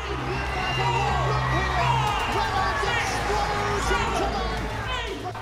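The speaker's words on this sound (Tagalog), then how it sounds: "Hiyawan ang mga fans ng dugong Pinoy" Crowd of fans cheering and shouting at a boxing match, a loud, dense roar of voices and whoops that swells and stays strong throughout, with an announcer's voice likely in the mix.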